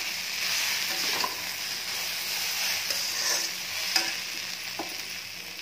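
Khichdi frying with tomato and onion makes a continuous close sizzle, punctuated by a few light spoon scrapes and taps against the pan.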